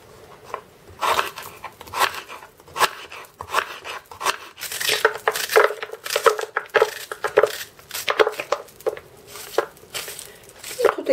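A knife chops parsley root and parsnip finely on a board, with fairly steady, close, crisp strikes in quick irregular bursts. No one talks.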